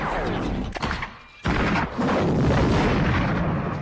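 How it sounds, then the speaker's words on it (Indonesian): A heavy weapon fires from the 1987 film RoboCop, giving loud booming blasts with a sharp cutoff and a renewed rumbling roar, with no talk. "Dengan senjata berat, Robocop menghancurkannya dengan sekali tembak."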